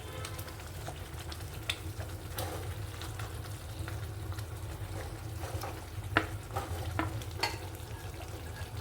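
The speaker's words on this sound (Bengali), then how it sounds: "এই পেস্টটা দিয়ে দেবো, একদম লো ফ্লেমে দিয়ে রাখবে" A spice paste for paneer makhani fries in a pan on a low flame with a quiet, steady sizzle. Intermittent scraping clicks of a spatula stirring it come up close, and nobody speaks.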